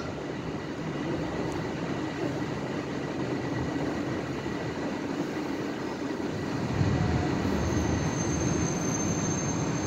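A TTC Line 4 subway train arriving at Leslie Station, a steady rumbling roar of wheels on rail that swells louder near the end, with a faint high whine above, heard alone without talk.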